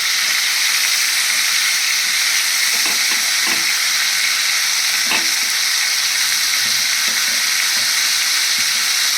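Capsicum and green beans fry in a pan with chicken, a steady loud sizzling hiss that stays constant throughout, with occasional soft clinks of stirring.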